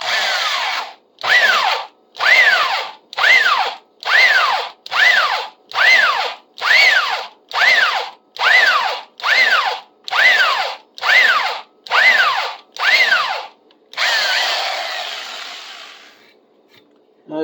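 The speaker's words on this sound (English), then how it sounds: "the reason I'm pulsing the drill like that" An electric drill bores into a bushcraft knife blank in short regular pulses, about fourteen loud whining bursts that each rise and fall in pitch, then one longer steady run at the end.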